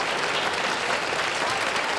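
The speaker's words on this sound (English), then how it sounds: "First time I ever saw a loaf of bread get applause." A studio audience at a television game show applauds steadily and loudly, a dense even wash of clapping with no talk over it.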